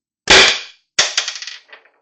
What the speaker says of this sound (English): this is about the 8th shot through this CO2